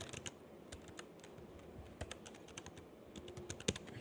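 Someone types an email into a React web form on a computer keyboard, quick irregular key clicks tapping close by in bursts with a few louder strikes, no talking.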